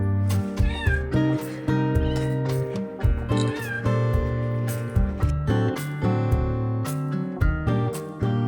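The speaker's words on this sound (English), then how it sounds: "Being followed all the way up by this cat." A cat on a quiet Greek island in the Cyclades meows repeatedly while following someone uphill, its plaintive calls rising over a steady, loud bed of harmonic background sound.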